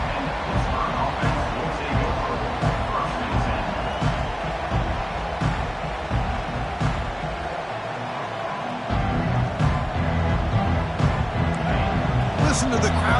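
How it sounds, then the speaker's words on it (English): A college football video game at Texas carries a constant roar of stadium crowd under a commentator's voice, with brief swells and a short dip in the middle. "Listen to the crowd energy here in the early going. This is a tough environment for visitors."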